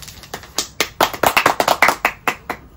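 Hands clap repeatedly to mark cameras for sync at a podcast recording, a quick series of about a dozen sharp, close, loud claps in an uneven rhythm.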